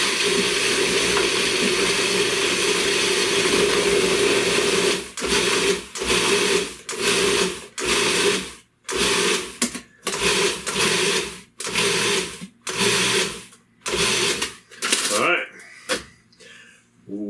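Food processor pulsing a bread pudding mixture with butter added, starting with a long continuous whir and then breaking into about a dozen short, loud motor bursts with brief pauses between them.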